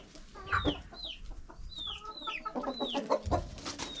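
Small black and tan bantam hens in a Bulgarian barnyard, soft repeated clucks and rising chirping calls from several birds close by, with low rustling and shuffling underneath.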